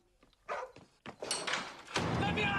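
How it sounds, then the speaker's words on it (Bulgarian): A small dog barks several times in short, sharp bursts, mixed with shuffling and movement noises in a film scene, with voices around it. "Това е малко куче."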